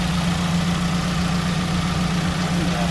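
A 2004 Toyota Celica GT with a TRD oil cap and cold air intake idles steadily after running for about ten minutes, a close, even engine hum with a low steady drone and no voices over it.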